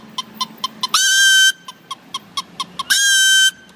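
A man whistling an imitation of a hen, with a steady run of short, clucking chirps broken by two long, shrill, warbling cackles, loud and close with no talking.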